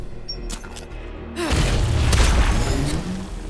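A grenade bursts in the turn-based video game Every Day We Fight, a sudden heavy boom after a brief quiet lead-in, followed by a rolling, debris-filled rumble that fades over a few seconds.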